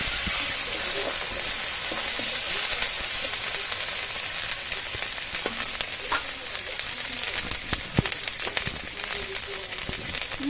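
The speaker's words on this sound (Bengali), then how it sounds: "পেঁয়াজটা তো লাল লাল করে ভাজা হয়ে গেছে, এখন দিয়ে দিব আদা রসুন বাটা, দিয়ে দিব জিরে বাটা" Onions fried until reddish in a pan while ginger-garlic and cumin paste goes in, a steady close sizzle with scattered pops and faint clinks of stirring throughout, no talk.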